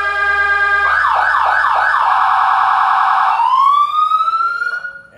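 A loud professional six-tone electronic vehicle siren switches among several tones: a steady blare, a rapid warble, then rising whoops before winding down.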